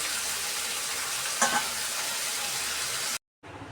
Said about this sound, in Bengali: মাছটাকে এখন একটু ভেজে নেব আমি আলুর সাথে